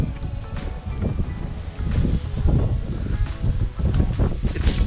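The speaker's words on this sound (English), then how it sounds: "it's just too windy here" Wind roars and buffets steadily, with gusting low rumble and rustling throughout, fairly loud and close.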